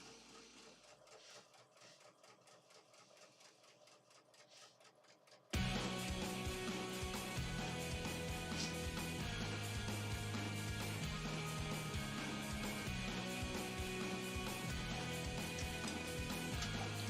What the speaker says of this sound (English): just moving right along here, chain piecing these up.